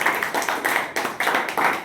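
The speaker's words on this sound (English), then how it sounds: "So please clap for Rupal." A small audience of students claps for a classmate, a fairly close, loose rhythmic patter of hands with clear individual claps swelling and dipping for about two seconds.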